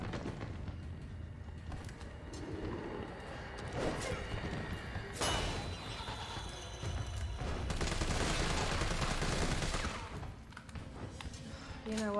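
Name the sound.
gunfire in the video game Resident Evil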